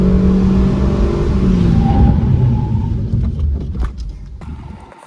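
A Suzuki Swift Sport 1.6 accelerates with a loud engine rumble, then brakes hard to bed in its brakes, the engine noise fading into quieter road and cabin sounds.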